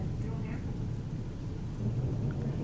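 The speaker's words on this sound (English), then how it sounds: "I guess it's raining now." Continuous rain with low rumbling thunder from the fantasy video game Gothic II, a steady wash of moderate loudness with a few faint distant cracks.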